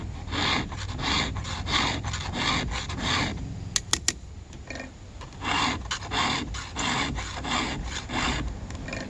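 A chainsaw rip chain is sharpened by hand with a file, giving repeated rhythmic rasping strokes, close and moderately loud, with a short pause and a few sharp metallic clicks midway.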